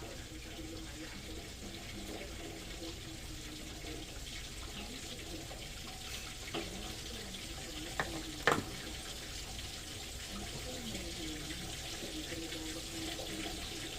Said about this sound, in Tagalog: Matagal pa nga dito yung prito eh.